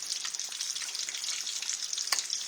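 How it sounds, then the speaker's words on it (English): A glaze sizzles steadily in a hot breakfast pan while it is stirred, a continuous bright frying hiss broken by occasional soft scrapes. "I'm going to stir it around"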